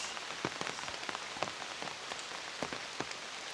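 Rain falls steadily in a village along a muddy dirt road, a continuous patter with many distinct close drops hitting surfaces, no voices.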